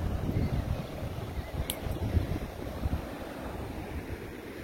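Floodwater rushing over a weir beside a ford after a flood makes a steady, dense roar with some wind buffeting, continuous and fairly loud with no voices.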